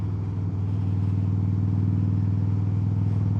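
A 2007 Harley-Davidson Softail Deuce with mini 8 bars rumbles along on the move, its deep, steady V-twin drone loud and continuous with no voices over it.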